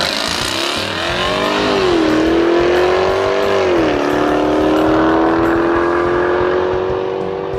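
A Jaguar F-Type coupe engine droning steadily and close, its pitch rising then easing as it revs and settles into a sustained cruise with no talk over it.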